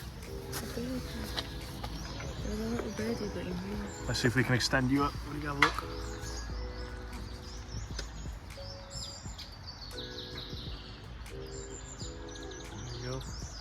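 Birds chirp and call near a bird hide at Buttermere lake in the Lake District, a scattering of short bright tweets repeating under and between people's conversation.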